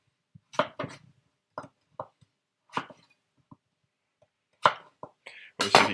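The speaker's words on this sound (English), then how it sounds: "So I'll cut these up to the same size as the other ones." A knife chops potatoes on a board in a kitchen cooking Colombian ajiaco. A few sparse, close, crisp cuts fall at irregular intervals, with faint soft noises between them.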